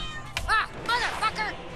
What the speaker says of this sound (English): Oh shit. It's a kitty.